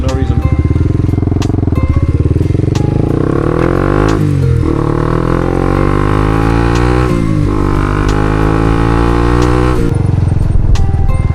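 Honda CB125R motorcycle under way, its small engine revving hard and repeatedly rising in pitch through the gears, with brief dips at each shift, loud and close throughout.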